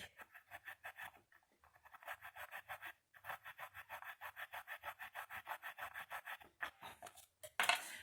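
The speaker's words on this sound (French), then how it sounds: "vous prenez un couteau avec micro-denté. Ça fait vraiment comme une scie." Serrated knife sawing back and forth through material in a steady rhythm of rasping strokes, close up, with a few brief pauses.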